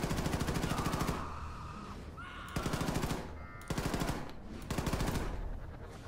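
Gunfire in the video game Wolfenstein 2: The New Colossus, loud rapid automatic bursts of machine-gun fire in several stretches separated by short pauses, close and dominant.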